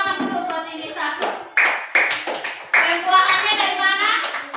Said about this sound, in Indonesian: Tepuk tangan dulu buat ini satu